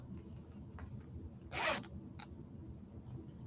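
A clothing zipper is pulled in one quick rasping burst, followed by a brief second tug, close and moderately loud over a low steady room hum during a relaxed crafting session.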